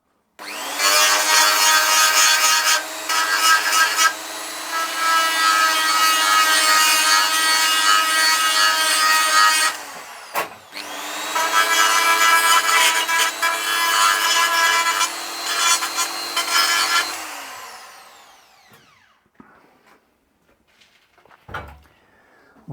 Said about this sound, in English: we need to cut the crack open.